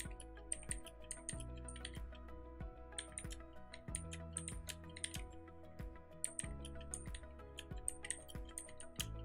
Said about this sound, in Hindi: ये जो कीज हैं इनको जल्दी जल्दी प्रेस करता हूँ